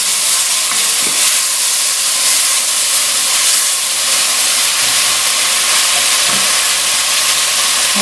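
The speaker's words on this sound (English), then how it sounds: "In goes the ginger and garlic paste." Ginger and garlic paste sizzling loudly in a pan of lightly browned ingredients for a fish masala curry, a steady close hiss of frying with faint stirring scrapes throughout.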